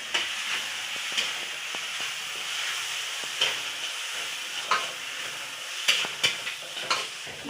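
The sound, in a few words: spices being sautéed in pan for prawn curry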